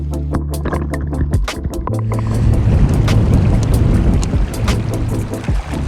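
Strong outdoor wind of about twenty miles an hour during a snowstorm while fly fishing, heard as a loud, continuous roar and buffeting against the microphone, with low gusty rumbles and no voices.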